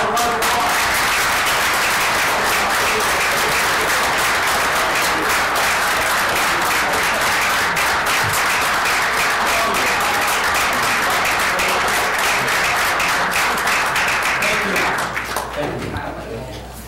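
A council meeting crowd applauds state champions with loud, sustained clapping that runs unbroken for about fifteen seconds before tapering off.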